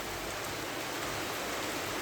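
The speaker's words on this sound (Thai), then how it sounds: "ฝนตกที่หน้าต่างอีกแล้วค่ะ" Steady hiss of rain falling on a window, even and unbroken throughout, with no voices.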